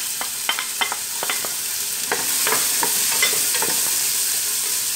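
Chopped onions frying in four to five large spoons of olive oil in a cooking pot, with a steady loud sizzle and the scrape and clack of a spoon stirring, no voices.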